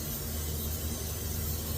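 Steady close hiss of an aerosol sprayed onto the rear brake of a 1978 Cutlass, one continuous burst with no talking.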